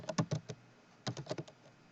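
Two quick bursts of computer keyboard typing, each a handful of close, crisp keystrokes, separated by a short pause, with no talking.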